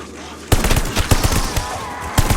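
Gunfire in the Call of Duty: Vanguard game, loud sharp shots at irregular intervals over a dense battle background, with a brief bit of voice underneath.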